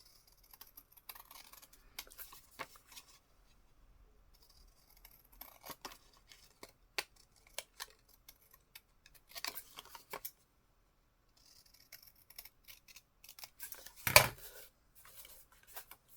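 Scissors snip paper to cut out a small framed picture, a series of faint, sparse crisp clicks and rustles in a quiet room, with one louder snap near the end.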